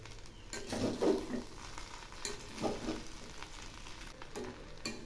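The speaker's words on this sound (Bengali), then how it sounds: "এখন আমি নেড়ে চেড়ে নামাবো" Khichuri stirred in a pan after two spoons of ghee and ground garam masala go in, a soft steady sizzle with scraping spoon strokes recurring every second or so, close by and moderately quiet.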